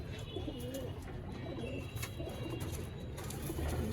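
Golla pigeons in a home loft coo softly and repeatedly, low rolling calls over a constant background hum, nearby but quiet.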